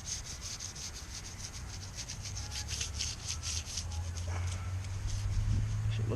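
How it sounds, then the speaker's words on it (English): Scrubbing grime and corrosion off a car battery, a steady close rasping rub with rhythmic strokes that continues throughout, alone and fairly faint. "I wanted to scrub it off first real quick. Attempt to get some of this grime off here."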